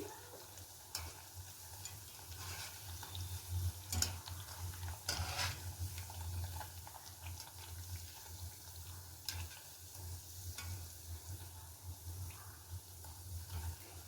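Ash gourd fryums frying in oil over a medium flame, a steady low sizzle and bubbling with faint stirring scrapes and light clicks, fairly quiet and continuous throughout, with no talking.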